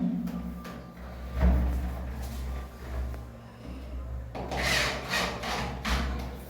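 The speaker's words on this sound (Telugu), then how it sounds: "ఇప్పుడు ఈ స్క్రూ లేస్ బిగిస్తున్నాను నేను" Screws are driven into a wooden door during a waterproof seat fitting, giving rubbing, creaking turns that come in uneven bursts over a steady low hum, close to the listener.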